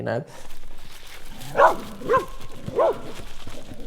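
A dog barks three separate times, each one sharp and moderately loud against a low steady background.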